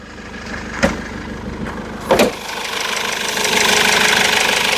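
A Mercedes E 220 CDI W211 diesel engine fires up and settles into a steady, knocking idle, loud and close with a couple of sharp clunks early on and no talk.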